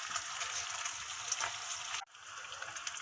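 Bacon frying in a pan, a steady close crackle and sizzle throughout with a brief dip in the middle before the hiss resumes, no voices.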